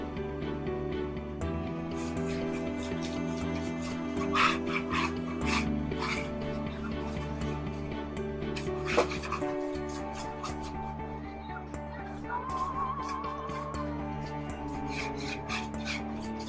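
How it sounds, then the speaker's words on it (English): Close, continuous scraping and rasping as a spatula held at a low angle rubs lightly over acrylic Venetian plaster on a surface, in repeated short strokes with a few sharper scrapes and no talking. "So basically we then take the spatula and just give it a light rub."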